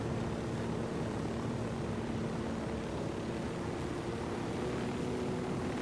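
Helicopter in the video game Ghost Recon Wildlands, a steady, loud rotor and engine drone with a low thrumming hum that holds constant throughout, with no voices over it.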